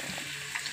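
Boiled eggs pricked with a fork fry in a pan for egg pulusu, giving a faint, steady, soft sizzle for a brief moment with no voices.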